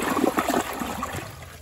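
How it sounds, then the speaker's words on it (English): A toilet flushing during a flush test on a nearly full tank, heard as a steady rush and trickle of water throughout, fairly close and with no talking. "And let's give it a flush."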